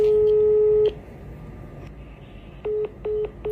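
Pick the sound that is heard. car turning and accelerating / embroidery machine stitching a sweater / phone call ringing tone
phone call ringing tone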